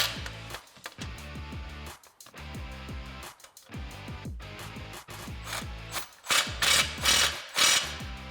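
Ratchet wrench tightening 15 millimeter bolts on a 2021-2022 Ford Bronco cat-back exhaust, rapid clicking runs in short bursts with brief pauses, close and clear.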